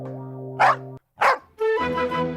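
A dog in a TV drama gives two sharp, loud barks a moment apart, followed by a drawn-out whining tone, with no speech.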